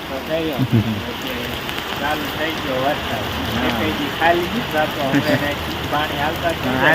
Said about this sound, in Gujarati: ચાર દિવસથી સતત વરસાદ દરરોજ આવી જાય